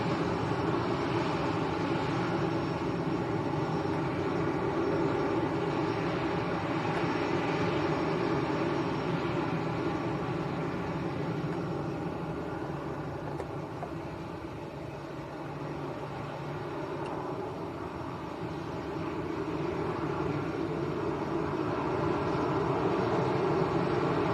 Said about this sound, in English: Discover Airlines going out to Munich in Germany. Delta Alpha India Whiskey Charlie, Airbus A320